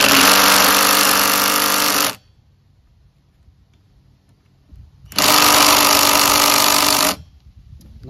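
An impact wrench works on a stripped bolt on a brand new Husqvarna 150BT backpack leaf blower, hammering in two loud, rapid bursts of about two seconds each, separated by a quiet pause.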